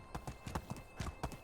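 Hooves of an overburdened horse in the Medieval Dynasty video game, a slow, uneven series of about eight clip-clop steps, fairly soft and close, heard alone without talk.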